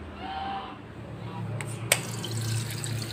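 Sardines are washed in water, with running and splashing water in a kitchen sink, a soft clink partway through, and a voice briefly at the start.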